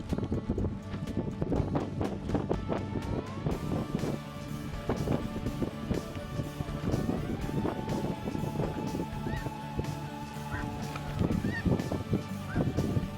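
Snow geese honk faintly and at a distance over decoys during a spring hunt in Illinois, the scattered calls half buried under steady wind noise.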